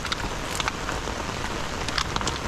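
Steady rain pours down outdoors and patters densely on surfaces. Scattered louder drops and splashes stand out against an even hiss.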